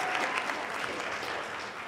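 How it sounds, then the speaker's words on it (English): Audience applause at a high school choir winter concert, a dense, steady wash of clapping from a large crowd that holds evenly for the full two seconds. "Why don't you give them a round of applause"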